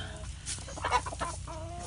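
Soft, low clucks and murmurs from chickens roosting on straw bales at night, faint and intermittent with no talking.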